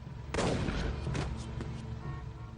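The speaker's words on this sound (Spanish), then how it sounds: "Un disparo a quemarropa." A single sharp sawed-off shotgun blast cracks out at point-blank range, followed by a rumbling echo and further bursts that fade over a couple of seconds.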